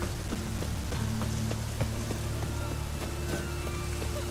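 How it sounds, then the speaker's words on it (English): Steady rain falling in the Witcher 3 video game, a dense, even wash of drops with a few faint background tones and no speech. "It just rains and rains."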